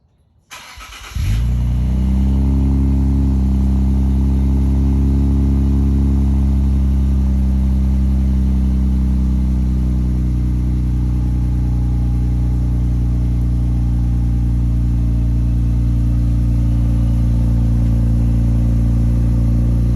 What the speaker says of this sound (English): Cold start, just cat back exhaust.